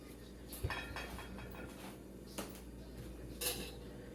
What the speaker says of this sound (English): just gonna cut the sides, make it a little easier to cut things out of the pan